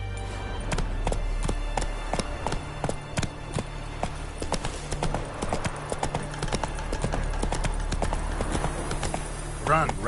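Hooves of the horse Roach in the video game The Witcher 3 clip-clop in a steady galloping rhythm throughout, close and loud over a low ambient drone, with occasional game sounds layered on top.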